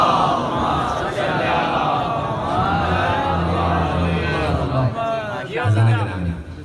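Crowd at a Shia majlis of Ashura mourning calling out salawat together, a loud massed chorus of voices sustained throughout with a rising swell near the end.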